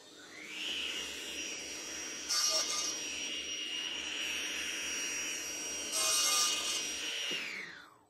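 A power saw cuts wood pieces to length with a sustained high whine lasting several seconds. The pitch rises in two brief louder bursts as the blade bites, then winds down at the end, close and alone.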